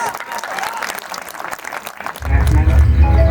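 Audience applause at a welcome party for a new MBBS batch at T.S. Misra Medical College, Lucknow, lively clapping for about two seconds before a deep, loud booming bass swells up and carries on underneath.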